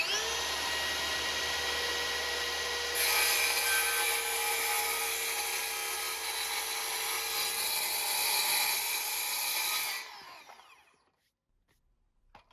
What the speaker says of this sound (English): we're going to take our machine, our handsaw, and just line it up